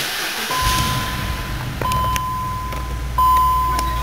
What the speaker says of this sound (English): You can hear that V8 fires up very smoothly, just as it should.